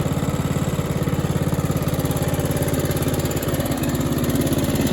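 A restored 1968 Snapper Comet 30 riding mower with a new carburetor, its small engine running steadily at a close, loud, even idle-like chug with no voices.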